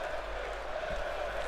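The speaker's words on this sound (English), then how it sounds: "And you can hear the crowd in the background." A faint arena crowd roar in the WWE 2K16 wrestling game sits low and steady in the background, a continuous murmur with no clear peaks.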